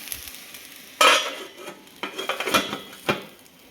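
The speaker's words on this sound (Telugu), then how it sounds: "ఒకసారి కలుపుకుందాం" Potato fried rice is stirred in a hot pan with a utensil, giving sharp scraping strokes and clinks over a light sizzle, loud and close, in several bursts.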